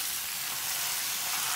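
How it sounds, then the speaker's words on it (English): Pak choi fries in a pan over low heat with a continuous, even hiss of sizzling oil, close and fairly loud, with no voices. "Just putting the pak choy right in a very slow fire."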